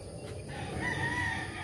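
A rooster crows on a farm that also keeps ducks, a single drawn-out call rising from mid-distance over steady outdoor ambience, with no talking.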